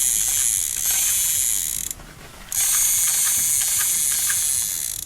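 A battery-free toy gun gives a loud, sustained ratcheting mechanical whir with a hissy edge when the trigger is pulled, pauses briefly, then resumes.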